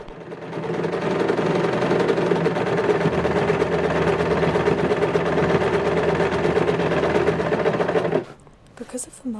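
A sewing machine stitches gathered petticoat tiers together in one continuous, evenly whirring run at close range, stopping abruptly near the end as a voice begins talking.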